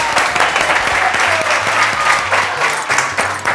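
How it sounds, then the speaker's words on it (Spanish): A studio audience at a Spanish quiz show applauds a contestant, steady, dense clapping that stays loud and even throughout with no talk over it. "¡Aplauso para él también!"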